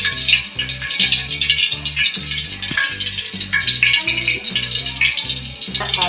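Tofu pletok snacks made with tapioca starch fry in hot oil, with a steady close bubbling sizzle and a rattling, rhythmic clatter of utensils throughout.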